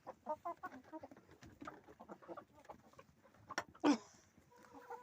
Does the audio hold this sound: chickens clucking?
yes